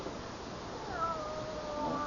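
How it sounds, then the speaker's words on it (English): A house cat gives a drawn-out, wavering meow, fairly faint beneath a background hiss of an old radio drama recording. "Your mother asked me to bring the cat up."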